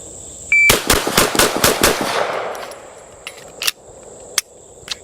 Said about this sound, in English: these targets sound like you're shooting at one target